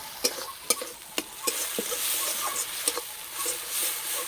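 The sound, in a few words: prawn stuffing frying and being stirred in a pan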